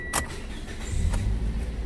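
A Toyota Yaris engine cranks briefly after a battery replacement, a low rumbling turnover swelling near and moderately loud through the second half, with a sharp click early on.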